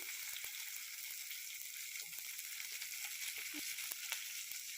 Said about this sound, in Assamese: এতিয়া পাঁচফোৰণখিনি আকৌ ৰঙা হোৱাৰ পিছত পিঁয়াজ দিলোঁ